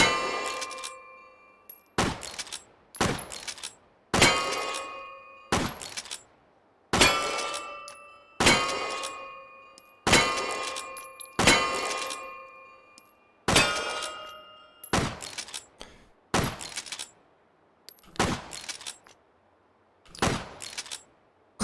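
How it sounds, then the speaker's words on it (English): An 1860 lever action black-powder rifle in Hot Dogs, Horseshoes and Hand Grenades fires about fourteen sharp, ringing shots at a steady pace with brief lever clacks between, each decaying into silence. "So, let's do some shooting."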